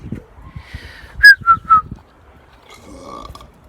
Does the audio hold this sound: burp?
yes